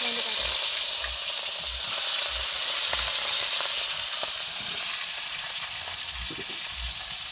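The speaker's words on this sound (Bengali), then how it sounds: "একটু হালকা ভেজে নিব" Shrimp with shells already removed fry lightly in mustard oil, giving a steady, close sizzle and hiss that runs throughout with no talk over it.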